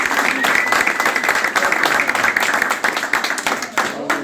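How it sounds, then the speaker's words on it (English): Audience clapping for a team member, a dense burst of applause from a crowd indoors lasting several seconds, loud and continuous with slight fading near the end. "Please, you can applaud Arnaud."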